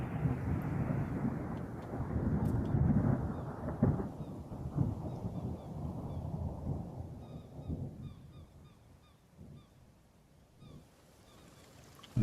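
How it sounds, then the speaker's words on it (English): Thunder in the game Escape the Pacific, a long, deep rolling rumble that swells loud early on, then gradually fades toward a quieter tail. "Oh, there's the thunder."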